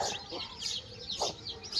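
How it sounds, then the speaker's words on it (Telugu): A Bhimavaram breed hen clucks near the listener in short repeated bursts alongside her chicks, with a few sharper peeping calls over light background noise. "మా కోడి పెట్ట"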